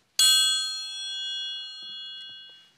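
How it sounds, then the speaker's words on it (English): A metal triangle struck once in a science demonstration, ringing with a bright, sustained metallic tone that decays slowly over a few seconds, alone with no talk. "A triangle."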